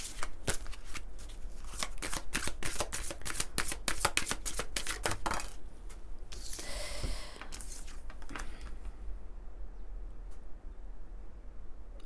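Oracle cards riffled and shuffled by hand in quick, dense bursts of flicking snaps, close and clear, easing into softer slides and a pause before a few last flicks.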